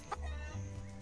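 A chicken in the farming game Dinkum gives one short, faint cluck over a low steady hum, alone without talk.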